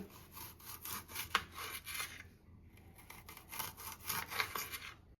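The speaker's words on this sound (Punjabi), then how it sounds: "ਇਸ ਤਰ੍ਹਾਂ ਆਪਾਂ ਨੇ ਪਿਆਜ਼ਾਂ ਨੂੰ ਗੋਲ ਕੱਟ ਲੈਣਾ ਗੁਲਾਈ ਵਿੱਚ" A knife cuts onions into rings on a board, making close, rasping strokes that repeat in a steady rhythm, quiet overall, with a short pause midway and no voices.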